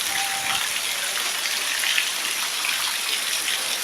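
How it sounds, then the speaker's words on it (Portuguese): Heavy rain in Serra do Félix, Brazil, pours down in a steady, dense hiss, drumming on surfaces without a break. "E tome chuva."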